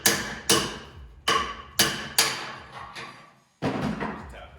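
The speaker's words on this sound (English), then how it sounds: "it hooks on the inside of your neck bearing race to pop it out in with your punch" A hammer drives a punch against a neck bearing race on a 2006 Ultra CVO motorcycle, giving about seven sharp, ringing metallic blows at an uneven pace, close and loud, each one decaying quickly, with a short pause before the last strikes.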